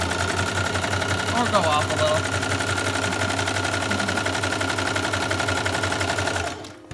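A sewing machine stitches a zigzag across the bottom of a newborn onesie, a steady rapid mechanical rattle running continuously under brief talk, stopping abruptly near the end.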